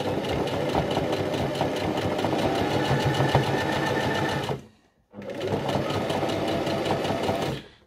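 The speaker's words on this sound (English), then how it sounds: "I'm going to do a couple of back stitches here." A sewing machine stitches back and forth in a fast, steady mechanical chatter, stopping for about half a second before starting up again at the same close, even pace.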